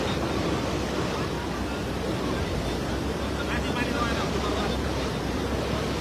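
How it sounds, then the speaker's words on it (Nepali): A swollen Balason river after a day of rain rushes in a steady, loud broadband roar of churning water with gusty wind, continuous and close throughout. "यो एक दिन पानी पर्दा फेरि बालासन खोला बढेको स्थिति"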